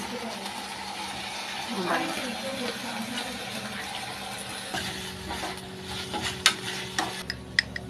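Gobi manchurian fries in a pan with tomato, soy and Schezwan sauces, giving a steady close sizzle with scraping stir strokes and a few sharp clinks toward the end, with a voice faintly in the background.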